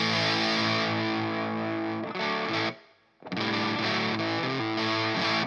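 An electric guitar played through a Sola Sound MKII Tone Bender fuzz pedal running at 12 volts gives a thick, buzzing fuzz tone with bright top end, sustaining chords that drop out briefly mid-phrase before resuming.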